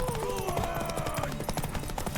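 Horse hoofbeats from The Witcher 3 game, a rhythmic clip-clop of galloping hooves mixed with music and ambient game sound, continuous and fairly close through the short stretch.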